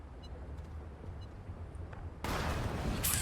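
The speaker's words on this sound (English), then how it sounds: "I'm not sure how big this explosion is going to be." A dynamite charge detonates in the Astroneer video game, a sudden loud broadband blast after a quiet stretch of low ambient rumble, sustaining as a roaring wash to the end.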